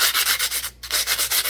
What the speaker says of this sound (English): I did a little bit of sanding of the edges